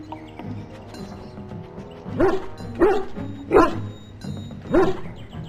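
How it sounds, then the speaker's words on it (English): A dog in the video game Dragon Age: Origins gives four sharp, evenly spaced barks over a faint ambient game soundscape. "Here's my dog."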